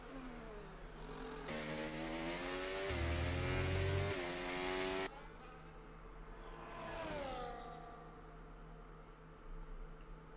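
Race car in a racing video game at Abu Dhabi, accelerating loudly out of pit exit with rising, revving engine tones. The engine then drops back and a second car passes more faintly.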